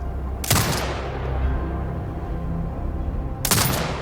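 Turret gunfire in the video game Sniper: Ghost Warrior Contracts 2: two sharp, loud bursts about three seconds apart, each with a booming tail, over a low ambient rumble.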